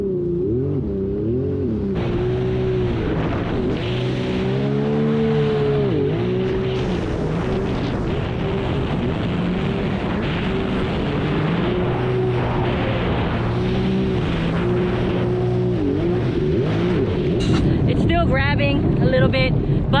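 A Sea-Doo Spark Trixx jet ski fitted with Riva Racing sponsons races across the water, its engine droning loudly and shifting pitch as it whips around, with wind buffeting the microphone and a rider talking over it.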